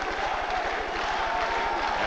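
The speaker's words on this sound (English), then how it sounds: "as the crowd continues to chant for Hacine" A boxing arena crowd chants for Hacine Cherifi in a WBC middleweight title bout against Keith Holmes, a dense, steady roar of many voices with a rhythmic chant pulse underneath.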